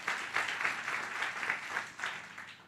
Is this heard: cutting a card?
no